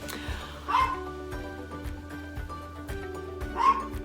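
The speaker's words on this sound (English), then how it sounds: "I can't pause it to stop the barking" A dog barks twice, a couple of seconds apart, against steady background music with a low rhythmic beat.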